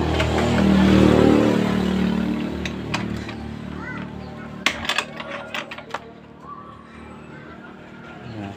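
A Honda Vario 110 F1 scooter engine is kick-started, a low rumbling churn up close that gives way to a run of sharp mechanical clicks and clatters.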